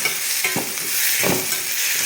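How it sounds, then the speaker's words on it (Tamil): Tomatoes with ginger garlic paste sautéing in a pan, a loud continuous sizzle broken by a couple of scraping stirs from a spoon, with no voices. "இந்த ஸ்டேஜ்லேயே தக்காளி வந்து போட்டுட்டு வதக்கிப்போம்."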